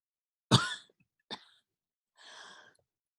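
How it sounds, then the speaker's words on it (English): A sharp dry cough, then a second shorter cough, followed by a brief breathy throat sound, all close and isolated against silence. "I have this terrible dry cough."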